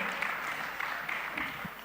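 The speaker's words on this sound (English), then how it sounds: "A round of applause for him as well." Audience applause at a business conference in Lagos, a faint, steady wash of clapping from a distant crowd with no voice over it.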